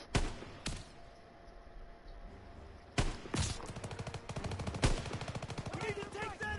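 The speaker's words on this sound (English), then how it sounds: "Gunfire! You must be near our guys!" Gunfire in the Call of Duty video game: bursts of rapid automatic weapon fire and sharp single shots, loud and continuous from about three seconds on, with quieter shots and battlefield noise before.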